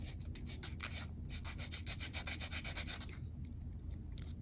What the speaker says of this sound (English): I will file with my nail versus moving the file back and forth.